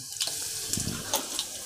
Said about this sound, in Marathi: कढीपत्ता असला का छान होतो, धुवून घेतल्यामुळे पाणी तडतडतं एकदम